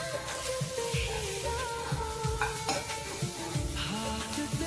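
Tamarind and spices frying in a pan for an Andhra ivy gourd dish, a steady close sizzle with repeated scraping stirs of a spoon against the pan and no talk.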